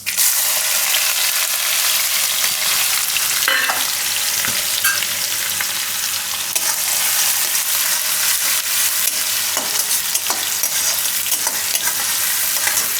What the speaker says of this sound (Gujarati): તો તેલમાં આપણે નાખીશું થોડુંક આખું જીરું અને થોડીક હિંગ. હવે એમાં ડુંગળી નાખી દેવું.